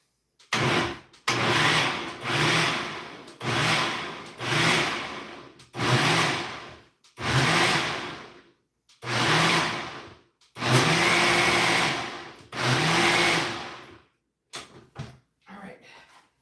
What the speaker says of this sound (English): I'm turning on the blender now.